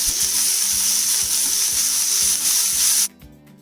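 Steady sizzling of chicken mince frying in a hot pan, loud and close, with faint scraping, cutting off abruptly near the end.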